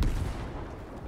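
A gunshot in the video game Fortnite lands as one heavy, low boom that rolls away and fades over about a second.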